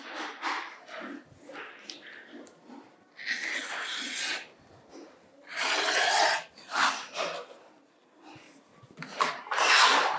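Fabric strips 3.5 inches wide cut on a quilting cutting mat, a series of close, soft scraping and rasping strokes in uneven bursts, separated by short quiet gaps.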